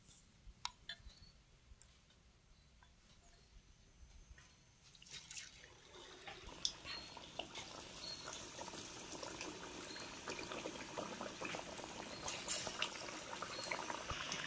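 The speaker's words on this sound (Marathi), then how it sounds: "आता ह्या बटाट्याच्या चकत्या पिठात बुडवून तळायच्या।" Potato slices dipped in gram-flour batter sizzle in hot oil in a kadai for bhaji, the crackling frying building from quiet to a steady, dense hiss after a few seconds with scattered pops, no voices.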